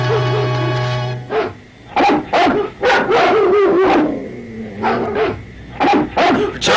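Several dogs bark and yelp in bursts, loud and close, after a brief sustained tone, as the pack is set on a wild boy in a jungle.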